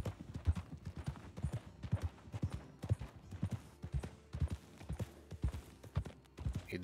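Horse hooves clip-clop steadily on the ground in the video game Red Dead RP, a regular walking rhythm of close, distinct hoofbeats that carries on for several seconds with no voices.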